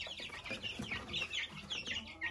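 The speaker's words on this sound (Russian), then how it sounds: "это маран из моего яйца" Maran chicks raised at home peep in quick, high chirps, a busy overlapping chatter from several birds close by, fairly quiet, with no talking over it.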